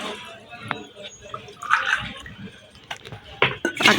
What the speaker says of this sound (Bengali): গরম পানি দিচ্ছি ছয়টা